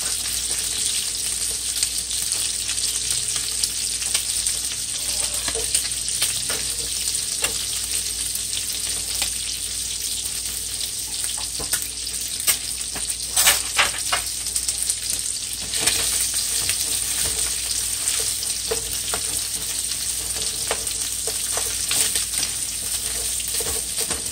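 Garlic frying in a pan for ackee and saltfish, with a steady, loud, close sizzle and crackle running throughout, plus occasional stirring scrapes and no talking.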